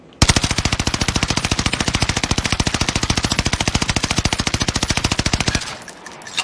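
An automatic rifle fired in Call of Duty: Warzone on the Caldera map, a steady, evenly spaced stream of loud close shots for over five seconds before stopping abruptly.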